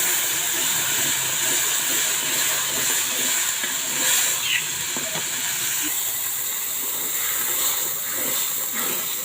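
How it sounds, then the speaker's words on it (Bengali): Ground ginger, garlic, chili and onion paste hisses in a hot pan just after eggs were fried in it, producing a loud, steady, broad sizzle that holds for the whole stretch. "এখন আমি আদা রসুন ও মরিচ পেঁয়াজ বাটা দিয়ে দিচ্ছি।"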